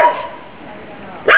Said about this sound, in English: Oh, it was a dog.